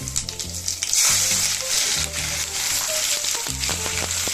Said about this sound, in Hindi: देखिए अभी मैंने प्याज डाल दिया है। अभी प्याज को हमें भूनना है।